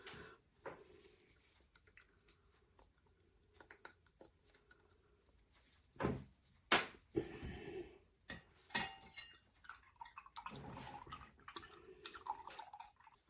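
Lavender hydrosol pours into a water and disodium EDTA mixture for a homemade micellar jelly cleanser, giving sparse, close liquid drips and splashes with a few light clinks of containers in a quiet room.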